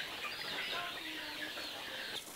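Chickens at a poultry farm and hatchery cluck continuously in a dense, overlapping chorus of many birds, steady and fairly close, with no speech over it.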